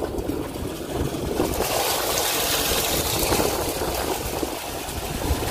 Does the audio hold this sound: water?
yes